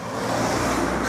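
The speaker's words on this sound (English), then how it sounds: "There's a car coming this way." Car driving along a quiet country road near Moel Arthur, a broad steady rumble of engine and tyres swelling slightly as it approaches, moderately close, no speech.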